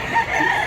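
A roughly one-year-old Bulanting Hennei-hatch rooster crows near the microphone in Mantalungon, Barili, Cebu: a brief, loud, strained call heard alone.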